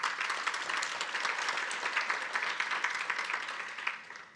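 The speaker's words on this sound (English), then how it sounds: "ladies and gentlemen, a big round of applause for that." A crowd at a talent summit event applauds steadily, a dense wash of many hands clapping at even loudness for a few seconds with no voices over it.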